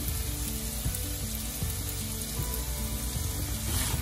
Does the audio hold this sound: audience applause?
no